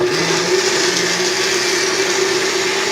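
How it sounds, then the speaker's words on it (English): A blender runs on high puree setting, whirring loud and steady throughout as it blends tomato basil soup, with a constant motor drone and churning liquid. "when we're blending, it's gonna go, or try to escape from your blender"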